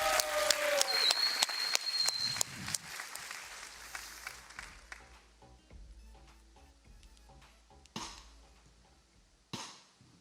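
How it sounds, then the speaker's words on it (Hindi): Studio audience claps for a young singer named Priyansh on a Hindi kids' TV show, a burst of dense applause that thins and fades over several seconds, leaving a few scattered claps near the end. "जोरदार तालियां हो जाए प्रियांश के लिए।"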